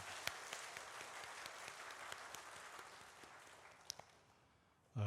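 Steady applause from a church congregation during a Sunday morning service honoring the choir, a broad even wash of clapping with a few sharper claps standing out, tapering off toward the end.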